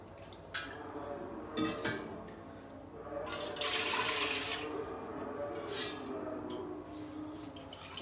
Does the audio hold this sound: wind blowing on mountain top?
no